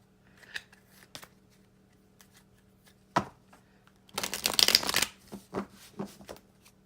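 Osho Zen tarot cards are shuffled by hand in a quiet room: a few soft taps, then a sharp riffle and a longer dense burst of card flicking, ending in light handling.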